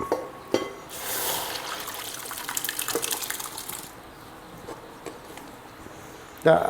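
Liquid pours into a hot pot with a brief hiss and splashy rush, then quieter sputtering and faint clinks; a knock near the end.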